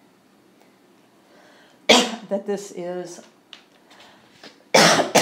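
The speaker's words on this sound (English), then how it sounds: "sorry for the coughing" Two sharp, harsh coughs bracket a few spoken words, loud and close to the microphone.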